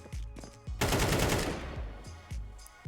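Rapid gunfire in a first-person shooter, fired in short bursts while the player counter-strafes, with sharp repeated reports and a denser burst in the middle against quieter game sounds.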